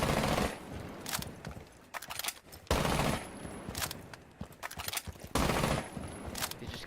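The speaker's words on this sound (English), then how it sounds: "You just keep shooting and only use the first 10 or so bullets." Rapid bursts of SMG 11 submachine gun fire in a video game, three sustained volleys each trailing off into quieter shots and clatter, loud and close with no talk.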